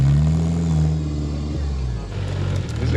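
A right-hand drive flat fender Jeep on vintage Super Swamper tires idles with a steady, low engine rumble throughout, and voices can be heard over it.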